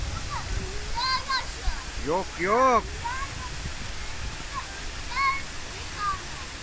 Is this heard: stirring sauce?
no